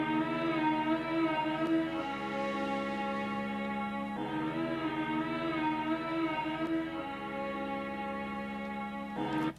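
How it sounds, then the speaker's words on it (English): A soul music sample pitched down six semitones plays as dark, sustained harmonic chords with a slow, repeating phrase that loops about every four seconds, steady and full, with no speech. "I put it -6 semitones, so the original tempo was 120 something, I think."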